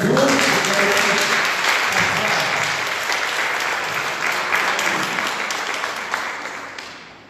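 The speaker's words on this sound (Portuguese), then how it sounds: "Uma salva de palmas para Jesus." Sustained applause from a church congregation at a regional leadership meeting, loud and steady throughout, fading slightly at the very end.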